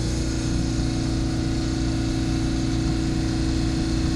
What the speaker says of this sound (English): You hear that compressor? Because now I got refrigerant flowing through there.